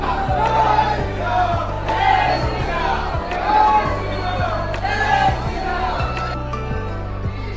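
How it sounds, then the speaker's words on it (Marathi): Dense crowd of pilgrims at the Ayodhya Ram Mandir temple, a loud continuous hubbub of many voices with scattered shouts and cheers over a steady low rumble. "आणि गर्दी बघू शकतो तुम्ही केवढी आहे."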